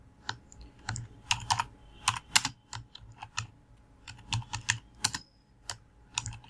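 Someone types on a computer keyboard nearby, soft irregular bursts of key clicks with short pauses between groups, quiet and with no talking.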